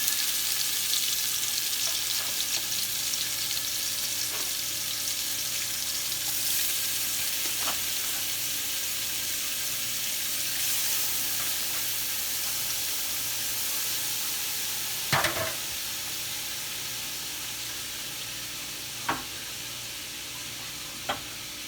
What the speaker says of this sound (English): Start adding your shrimp.